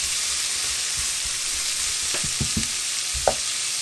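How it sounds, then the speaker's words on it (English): Red onion slices frying in oil, a constant close hiss with a few soft knocks and scrapes as they are turned, growing busier toward the end. "you get that turning in the oil, and you just let that cook on for a little bit."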